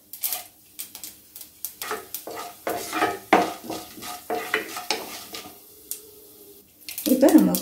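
Mustard seeds, cumin, fenugreek and lentils tossed into hot oil for curry, with a run of clattering spoon-and-pan knocks and scrapes and a rising crackling sizzle at the end.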